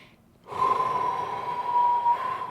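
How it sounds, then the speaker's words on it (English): One long, steady inhalation through the nose during a guided breathing meditation, close and fairly clear, following a brief quiet moment. "So we're going to breathe in."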